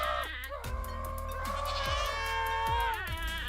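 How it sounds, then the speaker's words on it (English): Screaming goat in the Minecraft video game, one long, loud, wavering bleat, clearly audible over a rhythmic game music beat in the background. "That must be a screaming goat"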